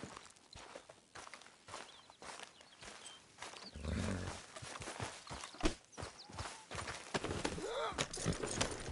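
Horse hooves clip-clop in an uneven trot in Red Dead Redemption 2, fairly close, over low rumbling background noise.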